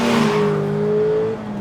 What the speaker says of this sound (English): This naturally aspirated Mazda engine is a real zinger. It just loves to rev.